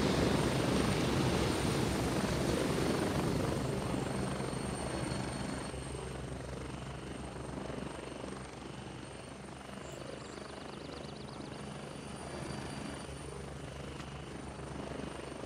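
A helicopter flying overhead in the video game Gray Zone Warfare gives a steady, loud rotor drone that fades slightly over about fifteen seconds, with no talking.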